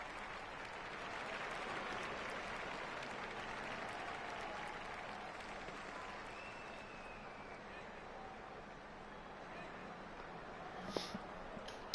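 Test match cricket crowd in New Zealand versus Australia applauding a boundary four during a run chase, a sustained wash of clapping and cheering from a distant stadium crowd, fading slightly near the end.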